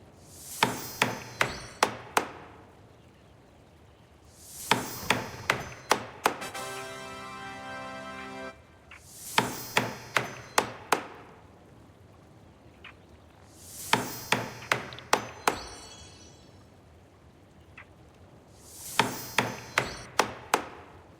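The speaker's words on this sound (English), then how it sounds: "Hammer the nails into the bridge." Repeated game-sound hammering of nails into a wooden bridge under repair in Star Stable Online, in clusters of four or five sharp ringing strikes separated by pauses, with a rapid rattling burst in one gap.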